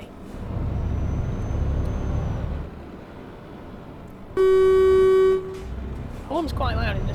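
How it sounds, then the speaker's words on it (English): A loud, steady truck air horn in the game Euro Truck Simulator blasts for about a second over engine rumble, followed by a brief voice. "Horn's quite loud in this."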